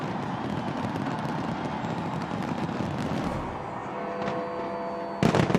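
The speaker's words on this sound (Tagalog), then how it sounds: "umilaw ang fireworks display sa London Eye" Distant New Year fireworks at the London Eye crackle and boom in a continuous rumbling barrage, with a sharper burst of bangs right at the end.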